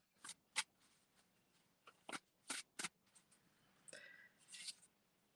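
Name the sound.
shuffling tarot cards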